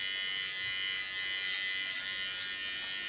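A small electric hair clipper runs at close range during a haircut, giving off a steady high-pitched buzz with a few brief bumps as it meets the hair.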